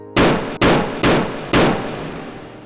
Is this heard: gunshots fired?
yes